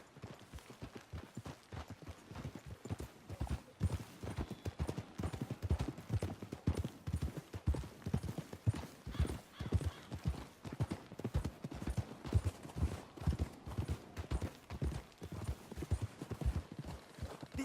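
Horses' hooves clip-clopping at a steady walking rhythm in the video game Red Dead Redemption 2, each clop distinct and fairly close, continuing unbroken with soft outdoor ambience and no voices.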